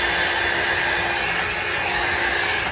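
A steady, loud rush of blown air from a hair dryer or blower, pushing alcohol ink across a painting surface to shape a rose, continuous and close with no talking.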